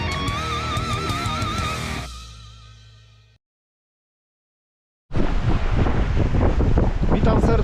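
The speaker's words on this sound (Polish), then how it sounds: "Zobaczcie, bardzo duży wiatr, niekorzystne warunki, fale." Strong wind roars and buffets the microphone with broadband rushing noise, cutting out briefly before returning loud and turbulent, with waves suggesting rough open water.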